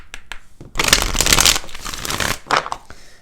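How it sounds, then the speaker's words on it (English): Tarot cards being shuffled in quick riffling bursts, with a few soft taps before and brief snaps near the end; close and fairly loud, no voices. "let's go ahead and do 4 major shuffles"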